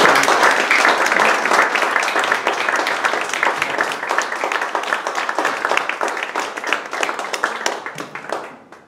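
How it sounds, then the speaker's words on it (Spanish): An audience at a poetry reading claps steadily in dense, loud applause that fades out near the end. "Pues demos un fuerte aplauso a Antonio Merallo."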